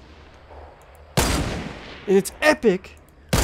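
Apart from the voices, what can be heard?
gunfire in the video game Fortnite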